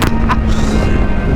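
A Bajaj Dominar 400 motorcycle engine and exhaust roar loud and close with a steady, throaty rumble, with brief wind buffets over it.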